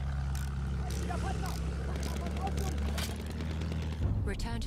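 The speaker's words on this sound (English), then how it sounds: "Plane behind us over A." An attack plane in Battlefield 1 drones steadily with a low propeller-engine hum beneath constant battle noise and game effects, with voices talking over it.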